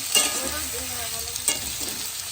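Food fries in a pan with a constant close sizzle, broken by a couple of sharp stirring scrapes, and no talking.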